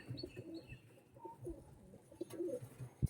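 Andhra pigeons, a pair of flying pigeons, cooing softly in short repeated calls, faint and close, with light chirps and small scattered noises around them.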